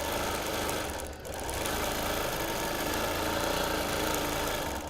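A quilting machine runs continuously along a navy blue border of a Quilt of Valor, with a steady, close motor drone and rapid stitching chatter, dipping once for a moment before carrying on alone.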